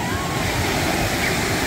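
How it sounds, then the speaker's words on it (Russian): Gentle sea waves at Lazarevskoye beach in Sochi wash in a continuous, even surf rush, close and steady, with faint background sounds of a busy summer beach. "Легкая такая волна, но она, в общем-то, отличная для купания."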